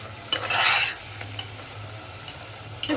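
Spiced potatoes with salt are sautéed and stirred in a pan over a raised gas flame, giving a close, steady sizzle broken by a longer scraping stir and several sharp clicks of the spatula against the pan.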